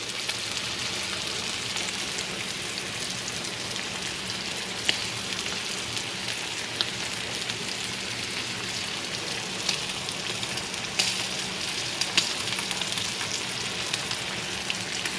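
A thin piece of meat sizzles in a pan, a steady, dense crackling hiss that continues evenly throughout with occasional small pops.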